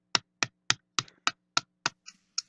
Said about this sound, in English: That's my hitting my hand against metal